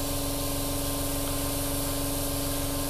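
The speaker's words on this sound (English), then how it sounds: "And we're just spraying" An airbrush sprays green paint onto a Hasegawa 1/32 P-40 model plane, giving a steady, close, unbroken hiss that holds at an even level throughout with no talking.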